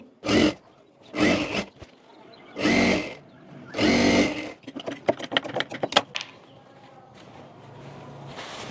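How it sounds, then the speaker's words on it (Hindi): A sewing machine stitches a blouse with ruffle sleeves in several short, loud bursts, then a faster stretch of rapid clicking, followed by a quieter hum. "अब यहाँ पर इसे उल्टा कर कर यहाँ पर भी नीचे वाले पार्ट में भी सिलाई कर लेंगे।"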